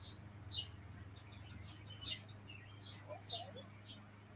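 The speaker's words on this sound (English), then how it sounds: "birds are chirping" Birds chirp in a few short, faint bursts spaced a second or so apart over a low steady hum, with quiet, sparse calls between them.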